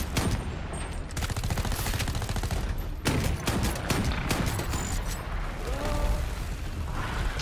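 Rapid bursts of gunfire crack out during shooting practice in the shooter game Shatterline, dense automatic volleys with louder single blasts, close and continuous throughout.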